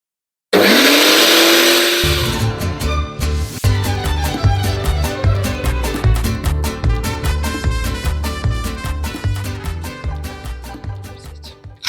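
Garden shredder chewing through material at an allotment, a loud close motor whine that breaks into a rough, rapid chopping and grinding clatter for several seconds.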